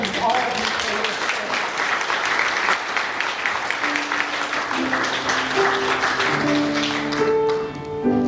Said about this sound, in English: I want to just applaud you